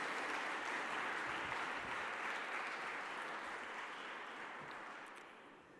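Sustained applause from a conference audience at a handover ceremony, a dense steady wash of many hands clapping that holds evenly and then begins to thin and fade toward the end.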